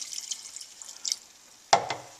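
Bouillon is poured into a cream of mushroom soup mixture in a pot. After faint background noise comes a single brief, close splash with a few trailing drips.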